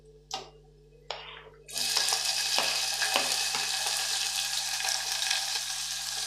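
Tomatoes for a plain biryani sizzle and fry steadily in a hot pan after a couple of brief clatters as they are tipped in, with faint ticking stirs over the continuous crackle.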